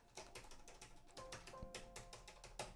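Typing on a Chuwi Hi13 tablet's keyboard dock: a quiet, steady run of clacky keystrokes with a slightly hollow, resonant quality, heard alone and close by.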